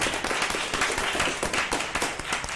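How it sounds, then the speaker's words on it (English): Applause at a school board of trustees meeting, a steady crowd clapping with dense overlapping claps throughout, fairly loud and close, with no talk over it. "Let's give them a round of applause."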